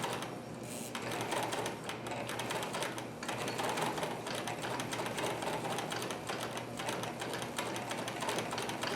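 A vintage Singer 319K sewing machine running slowly and steadily, with a close, continuous mechanical chatter and no talking.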